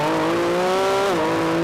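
A Lamborghini Revuelto in Corsa performance mode accelerates with a loud, close engine roar climbing steadily in pitch, then dipping briefly as it shifts gear and pulls again.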